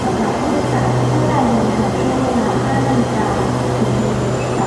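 Low steady rumble and hum of a Red Line electric commuter train arriving in Thailand, with a sustained motor tone and rolling rail noise throughout.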